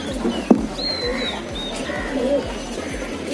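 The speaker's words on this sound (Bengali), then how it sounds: "এই কবুতর রয়্যাল টিটি," A Royal TT female pigeon coos softly and briefly, with a faint chirpy call over low, steady background noise.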